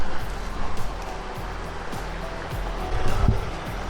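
Water flowing through a stream at a campsite, a steady broadband rush with low rumble, continuous and fairly close, with no voices.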